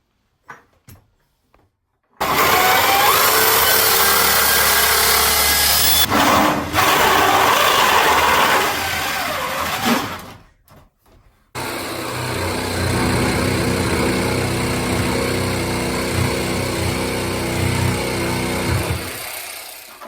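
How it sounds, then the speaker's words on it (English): A hole saw and a jigsaw cut porthole openings in wooden boat planking, heard as two long, loud, steady runs of power-tool whine and grinding close by, split by a brief pause. "I used a couple of different sizes of hole saw as an alternative to drilling lots of smaller holes, then jigsawed the remaining bits away"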